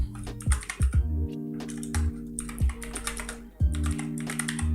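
Computer keyboard typing while writing HTML code, loud close clacks in irregular bursts with short gaps, heard alone over a faint background hum.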